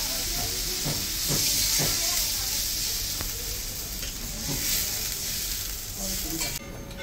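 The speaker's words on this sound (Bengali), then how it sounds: "ঝোলটা ফুটে গেছে" A vegetable curry broth with added water bubbles at a boil, a steady loud hiss of steam and sizzle with a few soft knocks near the start.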